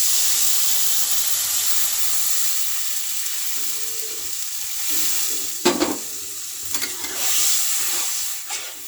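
Water poured into a hot pan of potato and elephant foot yam curry hisses and sizzles steadily while a spoon stirs and scrapes, with a few sharper bursts of steam partway through.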